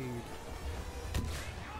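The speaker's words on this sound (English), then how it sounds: "Grenade." A grenade blast in the Star Wars Battlefront video game, a sudden loud thump with a burst of broadband crash near the middle, set against continuous game noise and ambient battle sound.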